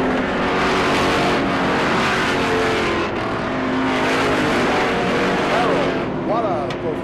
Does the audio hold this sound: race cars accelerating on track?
yes